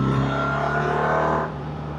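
Engine of a 2025 BMW R1300RT motorcycle pulling steadily under acceleration, a smooth close drone that eases off in loudness near the end of the short stretch.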